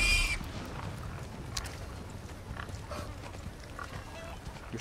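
Pig grunting from the Resident Evil 4 Remake game, short snorts and grunts over a steady low rumble of game ambience, fairly faint and scattered through the background.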